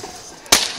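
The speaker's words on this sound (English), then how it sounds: "That counts as a slap." A single sharp slap lands on bare skin on the back of the legs, a loud close crack after a moment of quiet room noise.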